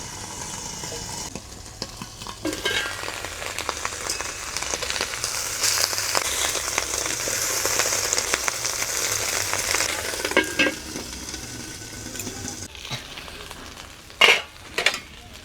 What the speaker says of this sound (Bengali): খুব কম তাপমাত্রায় এটাকে আমি ভেজে নেব উল্টে পাল্টে